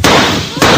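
A loud, sharp gunshot rings out in an old-time radio detective drama, followed by a second close blast about half a second later.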